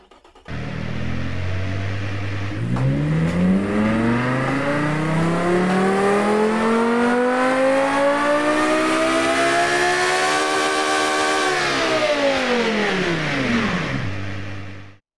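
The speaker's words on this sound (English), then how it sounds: "let's do a quick dyno pull and see what this engine sounds right now" A high-revving F1 V10 race engine in a video game dyno pull climbs steadily in pitch, peaks with a sustained scream, then drops off quickly near the end.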